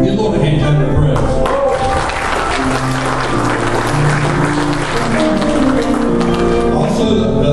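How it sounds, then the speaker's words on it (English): A church congregation claps hands in praise, a dense, loud, sustained wash of clapping lasting several seconds, with voices and music-like tones mingled underneath. "Give Lord a hand clap of praise."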